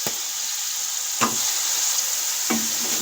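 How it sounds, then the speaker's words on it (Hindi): Onions frying in a pot for a chicken korma, a steady close sizzle broken by three scraping stirs at roughly even intervals. "प्याजों को हम सुनहरी ब्राउन होने तक पकाएंगे।"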